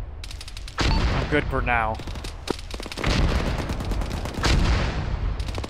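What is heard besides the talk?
incoming mortar fire in Arma video game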